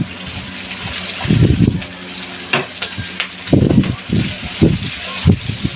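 Garlic, onion and ginger sauté in a pan for taro-leaf laing, giving a steady frying sizzle with louder bursts of stirring and scraping that recur irregularly.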